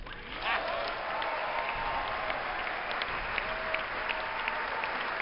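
Sustained applause fills the chamber as Barack Obama enters for the 2013 State of the Union address, a dense, even wash of many hands clapping that holds steady from start to finish.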